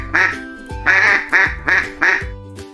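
Ducks quack by a farm pond in five loud, nasal bursts spaced roughly half a second apart, close to the listener with short gaps of quiet between calls.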